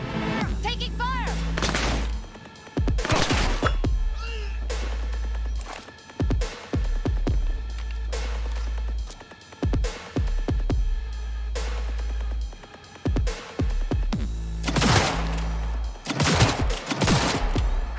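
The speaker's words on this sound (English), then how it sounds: "Heard shots." A firefight in Cyberpunk 2077 with loud bursts of gunfire, repeated volleys and single sharp shots over a deep rumbling backdrop, close and intense throughout, with occasional voices.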